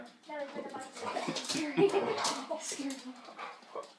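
A dog whimpers and gives a few small yips, close by, mixed with soft talking.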